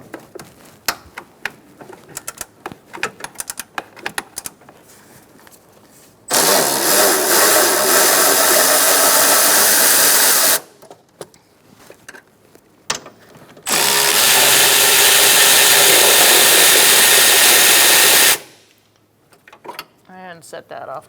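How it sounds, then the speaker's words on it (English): A power tool with a 10mm socket spins out bolts during a transmission mount replacement on a 2004-2009 Mazda 3 2.3L L4, two loud sustained whirring runs of several seconds each separated by clanking handling noises and talk. "Now we're going to use a 10mm socket."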